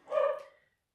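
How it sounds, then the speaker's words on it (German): A single short dog bark, fairly close and clear, ending quickly into silence. "macht sich bemerkbar, unser Hund"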